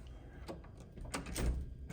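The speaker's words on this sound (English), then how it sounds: "See if the door's open or not." Someone tries a locked door at an Idaho Transportation Department building, making a few quiet, close rattles and thumps spread over two seconds against a low hum.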